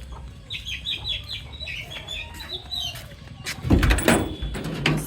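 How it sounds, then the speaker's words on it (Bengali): Chickens and chicks cluck and peep in quick repeated calls nearby, followed by a loud clattering bang like a sliding door or metal panel rattling near the end. "দেখেন মুরগি"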